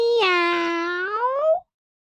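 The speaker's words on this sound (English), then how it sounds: ""Meow" to the children all day." A cat gives a single clear, drawn-out meow, close and loud, sliding slightly in pitch before stopping abruptly into silence.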